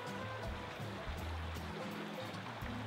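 A creek flows into the French Broad River near Hot Springs, North Carolina, with a steady, dense rush of moving water close by and a low rumble underneath.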